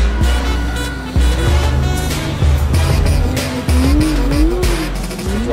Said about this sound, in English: First time driving for me on ice was an amazing experience.